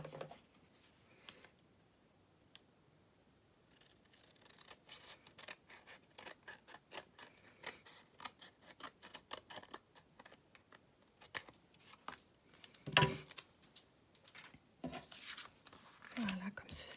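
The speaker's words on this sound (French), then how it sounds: "Et je vais couper l'excédent." Scissors trim excess paper from a handmade flower-border card, a series of crisp close snips and rustles building after a quiet start, with soft speech mixed in.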